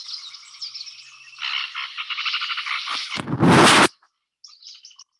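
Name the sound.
blackish rail calling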